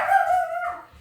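A dog gives a drawn-out, yelping bark close by, loud and alone for about a second before fading.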